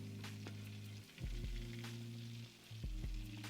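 Thin pork steaks fry in a hot pan with a steady, close sizzle, broken by a few soft clanks and scrapes as they are turned over.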